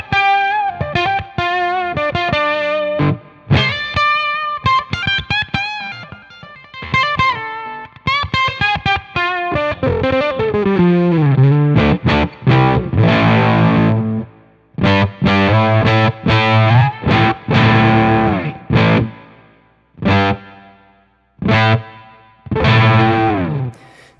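Electric guitar played through a GGG TOCT Octavia clone octave fuzz pedal, loud distorted notes with a ringing upper-octave tone, a run of single notes sliding into sustained chords with brief gaps, no talking.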